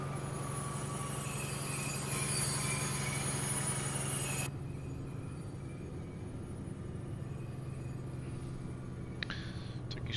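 Train running on rails in the Train Life railway simulator, a steady continuous rumble with constant rail noise and a sharp change in the high-frequency wash partway through, with no talking.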